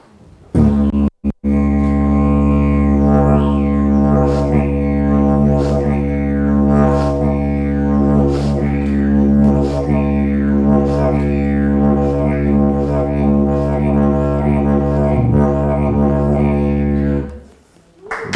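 A continuous low didgeridoo drone played with circular breathing lasts over fifteen seconds without a break, with rhythmic pulsing shifts in its buzzy overtones, loud and close.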